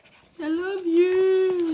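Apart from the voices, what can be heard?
dog whimpering, wanting to go out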